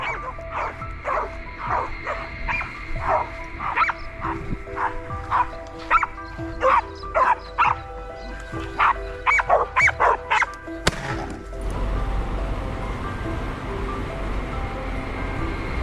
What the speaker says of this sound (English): Trapped tight by our pack of hunting dogs.